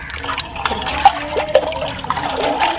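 Fresh green tamarind pods being rinsed by hand in water, close sloshing and splashing with small drips and trickles in uneven bursts, moderately loud with no talking.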